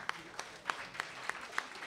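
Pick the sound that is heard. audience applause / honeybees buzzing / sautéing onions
audience applause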